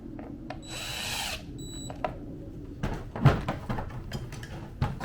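A power drill whirs in a short burst while driving a screw back into an Arrma Vendetta RC car, followed by clicks and handling clatter of parts nearby.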